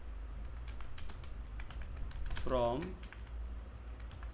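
Rapid clicking keystrokes on a new computer keyboard with widely spaced keys, moderately close, with someone speaking briefly over the typing.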